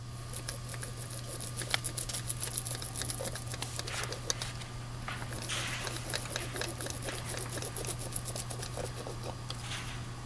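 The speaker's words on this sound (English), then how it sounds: "Next, stitch the repair unit in place, working the repair from the center towards the edges." A hand stitcher rolled over a tyre repair unit in a two-piece repair, a steady close patter of small rapid clicks and ticks over a constant low machine hum.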